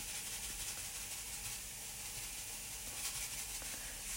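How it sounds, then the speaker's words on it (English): Onions sauté gently in a pan, giving a faint, steady sizzle and hiss with small crackles and no talking. "Saute the onions over a gentle heat to prevent them from burning."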